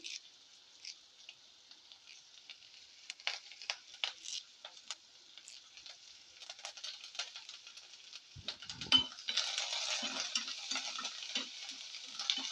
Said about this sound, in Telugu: మనకి పోపు పోపు అయితే వేగిపోయింది